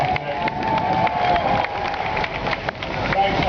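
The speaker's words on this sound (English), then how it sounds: "we have a nice round of applause for the NYPD doing a nice job" A street crowd applauds and cheers for the NYPD at a street sign unveiling, dense clapping mixed with shouts and voices, with a steady tone running underneath.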